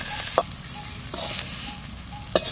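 Sikkim mountain greens fry softly in a wok, a quiet sizzle broken by a few sharp spatula scrapes and clicks against the pan.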